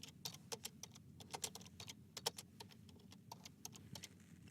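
Close, crisp keystrokes on a computer keyboard as a comment is typed into an Excel 2013 spreadsheet, arriving in quick irregular bursts with brief pauses, no speech.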